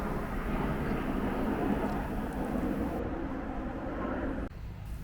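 Airplane engine drone overhead near an airport, a constant low roar that fades slightly toward the end, with no talking.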